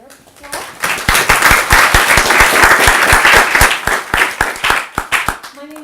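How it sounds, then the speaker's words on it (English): Seminar audience applauds a guest speaker on EU–Russia energy security. The clapping is loud and close, with distinct individual claps over a dense wash of hands that swells and then thins out, and brief voice at start and end. "Let's give her applause."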